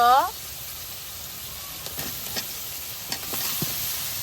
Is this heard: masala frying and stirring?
yes